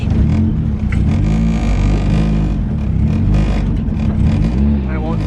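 A drifting car's engine revs hard and loud on a residential street, roaring steadily close by with rising and falling pitch while people talk over it.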